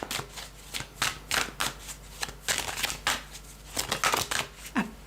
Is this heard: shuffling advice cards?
yes